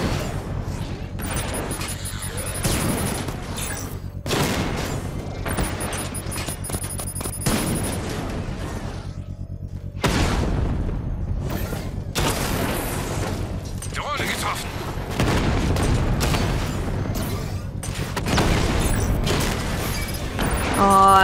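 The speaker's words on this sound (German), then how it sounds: "Jetzt schießen sie aber auch wirklich von beiden Seiten ihre blöden Drecksraketen" Rockets blast in from both sides during Batman: Arkham Knight gameplay, a dense run of booming explosions and rapid gunfire that goes on throughout, loud and close, with a voice talking over it.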